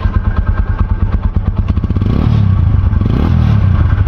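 A motorcycle fitted with an aftermarket exhaust idles in a loud, rapid, lumpy beat, then rises into a sustained rev that holds steady and near, with a clattering mechanical edge throughout.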